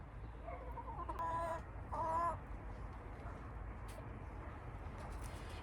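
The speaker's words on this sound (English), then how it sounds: "some hens sort of make a grumbling sound as they're looking for where they want to lay their egg" A hen named Jemima grumbles in a garden in June while searching for a spot to lay her egg: two short, soft, throaty calls rise briefly above a faint steady background hum, then the scene falls quiet.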